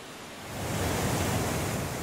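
The Nile crashes as a waterfall through a narrow five-meter-wide rock chasm in Uganda, a dense, roaring wash of water that swells up after a moment and then holds as a steady, loud rush with no talk.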